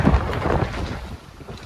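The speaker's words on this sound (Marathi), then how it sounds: "मस्त फील होतंय रे वारा बघ कसलाय" Strong wind at a misty Mahabaleshwar hilltop viewpoint, heard as a short, gusty, low buffeting rumble against the microphone that eases slightly toward the end.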